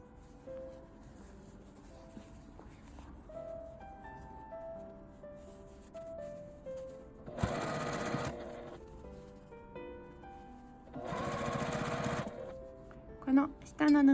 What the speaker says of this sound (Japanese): この下の布を縫わないように横に流して下まで縫います。